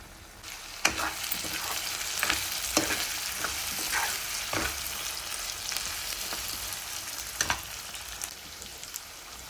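Prawn fry (royyala vepudu) sizzles steadily in a pan while a spoon stirs it, with a scatter of sharp scrapes and clicks over a continuous frying hiss, close and moderately quiet, no talking.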